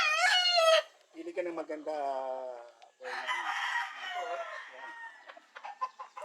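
A sweater bulik gamefowl rooster on a game farm crows loudly up close, then follows with several clucks and shorter calls, while a person speaks briefly in between.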